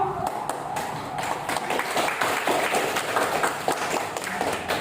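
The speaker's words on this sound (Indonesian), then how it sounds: "Coba kasih aplaus dulu kawannya yang sudah berani maju." A classroom of students applauds a presenting group, dense steady clapping running throughout with a few voices mixed in.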